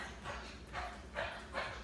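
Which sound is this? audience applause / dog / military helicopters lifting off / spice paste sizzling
dog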